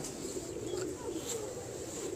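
Black Ghora pigeons cooing at close range, soft low murmuring coos over a steady background hum, with faint chirps mixed in.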